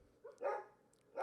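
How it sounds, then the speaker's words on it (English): Dogs barking in bursts, a couple of yaps then a louder bark toward the end, moderately distant and fairly quiet in a home setting. "The dog's barking."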